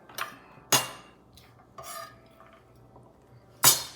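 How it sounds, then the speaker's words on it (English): Carrots go into a soup pot for lima bean soup with celery already started, as several sharp clattering knocks and scrapes against the pot and utensils ring out, separated by quiet gaps. "And carrots are gonna go in here."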